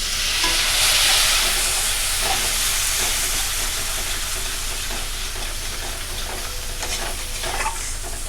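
Spice masala with a little added water sautéing in a pan for a curd-and-pointed-gourd curry, a steady loud sizzle with scraping stir strokes throughout and no talking.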